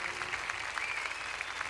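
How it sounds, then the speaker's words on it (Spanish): A crowd at a pro-life rally applauds steadily, a soft, distant wash of clapping that holds even throughout without breaks. "Aplaudir, aplaudir"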